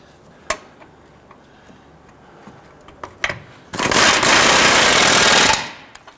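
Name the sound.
power tool tightening control arm bolts on a Nissan Quest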